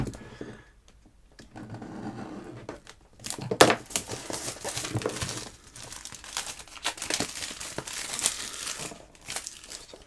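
Cellophane wrap being peeled off a Bigme Hibreak Pro Color e-ink smartphone box, with close, irregular crinkling and crackling bursts that come and go over several seconds.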